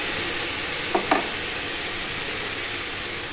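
A vegetable biryani mixture stirred in a pan over steady sizzling, with two quick scraping strokes of the spoon close by against a constant frying hiss.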